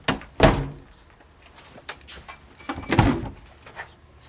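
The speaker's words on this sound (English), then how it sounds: "see if this door's open." An old screen door on a house being opened, with two distinct clattering thumps about two and a half seconds apart and quieter rattles between them, close by, with no talk.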